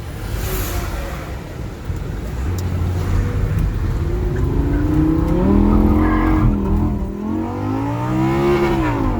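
A Final Edition Lamborghini Gallardo drives up a road and accelerates hard, its engine loud and close, revs climbing and dropping through gear changes with faint tyre noise underneath.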